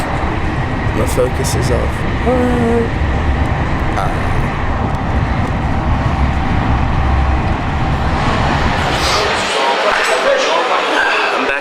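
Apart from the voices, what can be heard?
train station ambience at Gare du Nord, Paris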